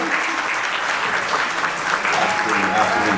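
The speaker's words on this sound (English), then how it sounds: "thank you very much to our panelists. And we can get a round of applause" Close, loud applause from a conference audience for panelists at a clean energy session, a brisk, continuous round of clapping with voices chattering underneath.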